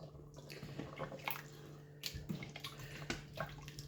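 Water is poured into a potato and egg curry in a cooking pot, a faint splashing and trickling close by over a low steady hum.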